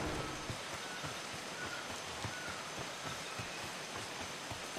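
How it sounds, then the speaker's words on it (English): Faint steady rain falls in the video game Atlas, a soft continuous hiss with light pattering drops and no voices. "Hello, rainy day."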